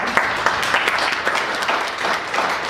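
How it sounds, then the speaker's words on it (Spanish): An audience at a talk claps for a speaker with steady applause in which individual claps stand out, close and fairly loud, with no talking. "Le damos un fuerte aplauso a Gerardo, por favor."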